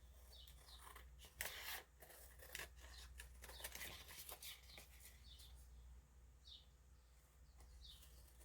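Scissors trim material with a series of quick snips in the first few seconds, over steady low hum and faint background chirps; the snipping fades into quieter ambience.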